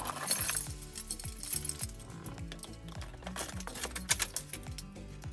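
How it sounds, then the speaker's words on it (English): A set of car keys jingles and clinks up close in a few quick metallic bursts, picked up in or beside a Toyota Corolla. "Get my car keys."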